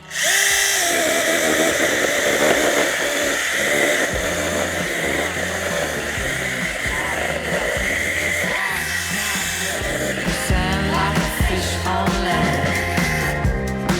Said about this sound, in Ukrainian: зараз давайте попробуємо, як ріже сухе дерево